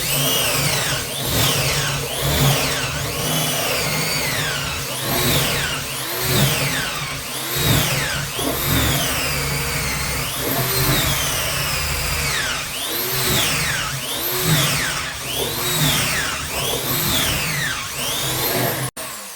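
A Parkside PNS 300 B3 two-speed drill screwdriver drills into material up close, its motor whine rising and falling in repeated surges with a steady rough grinding beneath, no voices.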